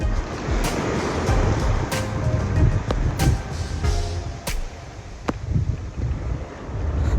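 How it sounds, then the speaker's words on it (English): Large ocean waves crash and surge around an Amel yacht sailing from Australia to New Zealand, with gusting wind buffeting close by and sharp clanks and knocks from the boat breaking through the roar. "videos cannot capture the size of these waves that we're on"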